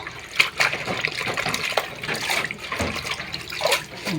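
Running tap water splashes and gushes irregularly as something is rinsed nearby, with uneven bursts of sloshing and no talking.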